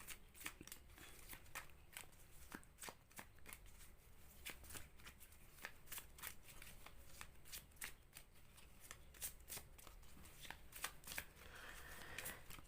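Tarot cards shuffled by hand in quick, crisp riffling bursts, close and fairly quiet, with a steady rhythm through the whole stretch and no talking.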